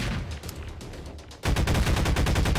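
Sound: gunfire in Garry's Mod video game

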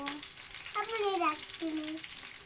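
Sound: frying food in a pan

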